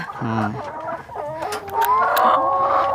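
Chickens cluck and squawk close by, a few birds calling over one another in short bursts with a brief louder cackle near the end.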